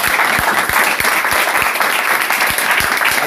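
Congregation in a church clapping together, a loud, close, steady burst of applause with rhythmic beats standing out through the dense clatter.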